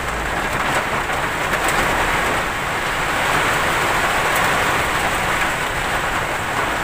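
Heavy rain pours steadily during a storm with gusting wind, a dense continuous roar with no voices, loud and close throughout, beside tall city buildings.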